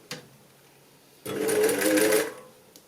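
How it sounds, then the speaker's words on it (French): A sewing machine stitches the first corner of a shirt collar in one steady burst of about a second, loud and close, with quiet room sound before and after. "Donc je commence à faire ma piqûre sur mon premier coin."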